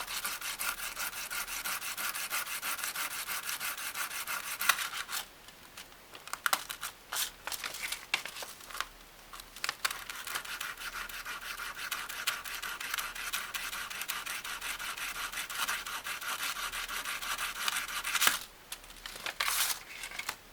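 Graham cracker edges are cut and scraped straight while building a cracker house: close, continuous gritty rubbing and scratching strokes, with brief pauses and crumbly crinkles, no talking.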